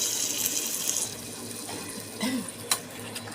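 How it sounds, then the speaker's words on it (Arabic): Dill water being poured from a cup onto rice in a cooking pot, a soft splashing trickle over a few seconds with a couple of brief louder splashes toward the end. "هضيف ميه الشبت بتاعي عليها"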